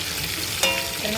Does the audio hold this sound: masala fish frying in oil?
yes